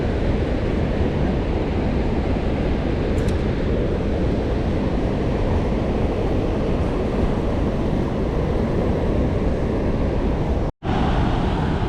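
Rushing water below the open floodgates of Center Hill Dam, a dense, constant loud roar with no breaks or voices, briefly cut out near the end.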